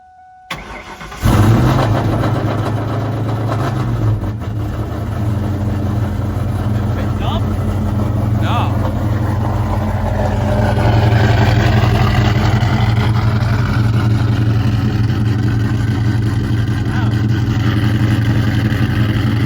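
A Whipple-supercharged Cobra car engine idles loudly and steadily at close range after a brief start-up rise, with a deep, even rumble throughout and people talking over it.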